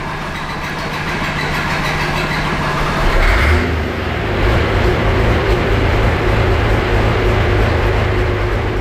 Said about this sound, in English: when you're turning the motor over, listen to it, you can hear it turns over a little bit harder because the timing's advanced